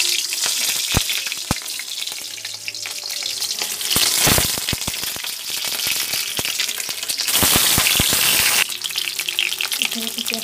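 Whole boiled eggs dropped into hot oil for an Odia egg curry, crackling and spitting loudly at close range with bursts of heavy sizzle and sharp pops.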